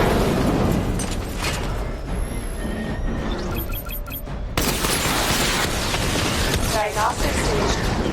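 Missile barrage explosions in Batman: Arkham Knight, a dense run of loud booms and bursts across the whole stretch, with a sharp jump in intensity midway and electronic whines and beeps layered over the blasts.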